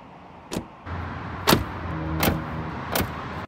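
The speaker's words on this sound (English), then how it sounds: "The real test of the cheapness of a car is how it sounds when you close the door." A Maserati Ghibli's car door shuts several times, each close a sharp thud standing out over a steady low hum of the car.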